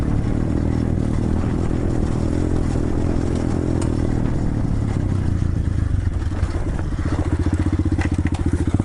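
A 125cc Chinese pit bike rides along a trail with a loud, continuous engine drone, its pitch shifting slightly, and rough crunching and clattering from the ground underneath throughout.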